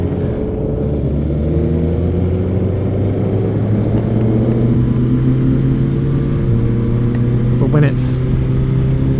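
Motorcycles riding together in a group, a loud continuous engine drone with shifting tones as revs change, a brief higher whine near the end.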